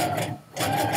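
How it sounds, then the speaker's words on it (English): A sewing machine stitches through the pages of a memory book album, a short loud mechanical whir that dips briefly and then resumes, close up with no talk. "Let's go and stitch because we got a lot to stitch"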